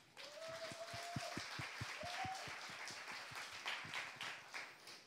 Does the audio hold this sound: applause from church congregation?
yes